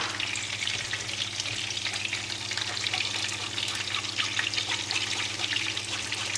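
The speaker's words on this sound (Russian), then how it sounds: "И сразу же быстренько мешаем соус." An orange sauce thickened with flour and water bubbles and hisses in a pan as it is quickly stirred, a continuous close sizzle with light scraping and no voices.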